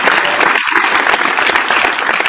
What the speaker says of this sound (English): We got to give a round of applause to Mueller for putting these